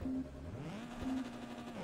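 A race car engine in Forza Motorsport 2 revs and drops in pitch, rising again in a steady, moderately loud tone with no talk over it.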